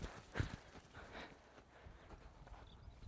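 Hooves of a ridden horse clip-clop in a quiet arena, with one firm near hoof strike followed by softer, irregular steps under faint background noise.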